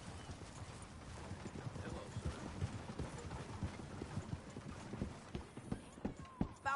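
Horses galloping in Red Dead Redemption 2, a quick rhythmic clatter of hooves that carries steadily throughout under occasional voices, with a louder thud and a brief whinny-like tone near the close.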